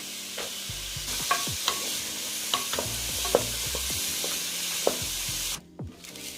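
Diced onions and celery fry in a tablespoon of oil in a pot for Bahamian crab soup. A bright, continuous sizzle carries sharp spoon scrapes and clicks, and the sizzle drops off abruptly just before the end, with no voices.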